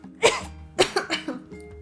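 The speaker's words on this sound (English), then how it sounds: "Her words were cut off by a dry cough." A short dry cough from a young girl with a fever, two or three rough close bursts followed by smaller hacking catches.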